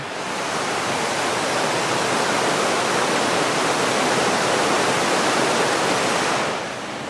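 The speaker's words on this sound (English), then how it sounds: "you could hear that river all night" A river rushes steadily near a winter mountain campsite, a loud, dense, unbroken roar of flowing water that fades slightly at the end.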